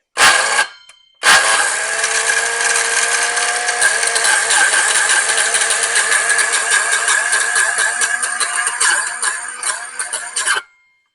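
A loud electric motor of a broken Ryobi saw whines at high revs, steady and harsh for about ten seconds after a short burst and pause, then cuts off.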